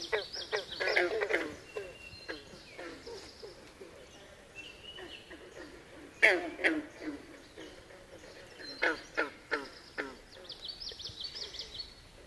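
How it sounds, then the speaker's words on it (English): Frogs croaking outdoors along a forest trail, a chorus of repeated calls and chirps rising and falling in irregular bursts, moderately close with birdsong mixed in. "We thought you might want to be serenaded by the frogs."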